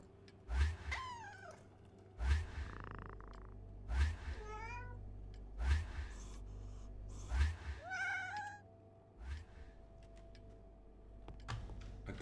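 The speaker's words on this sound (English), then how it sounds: "What's going on with that cat?" A cat in a video game meows repeatedly, a series of drawn-out, wavering cries spaced a second or two apart, with soft keyboard clicking and a low background hum.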